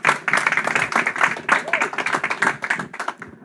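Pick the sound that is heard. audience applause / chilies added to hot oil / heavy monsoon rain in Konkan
audience applause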